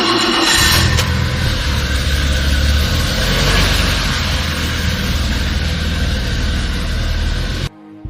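A 1984 car with 267,000 kilometres on it starts and pulls away at a classic car auction at Kyalami, its engine loud and steady for about eight seconds before cutting off abruptly.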